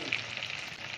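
Pangas fish frying in a pan for a village-style fish curry, a steady close hiss of sizzling oil running throughout with no talk.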